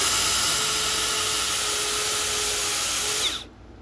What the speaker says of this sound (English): It's a little tiny belt sander.